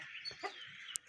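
An Aseel rooster clucks up close in a short, sharp burst of throaty calls ending in a higher squawk.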